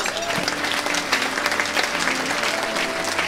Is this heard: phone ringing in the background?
no